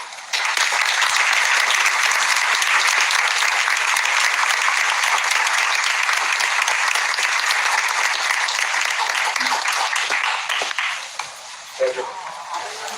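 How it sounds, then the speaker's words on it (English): An audience in a New York hall claps steadily in sustained applause to welcome a speaker. The clapping is dense and even and holds for most of the stretch, then thins out and fades near the end. "Please join me with a round of applause to receive her in this room."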